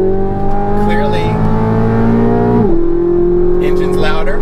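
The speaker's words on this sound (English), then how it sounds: "just the theater of that V8 engine and how it cracks and revs and it's so loud" A 2023 Corvette Z06 V8 in sport mode revs loudly nearby, pitch rising then dropping sharply as it shifts, with a person talking over the engine.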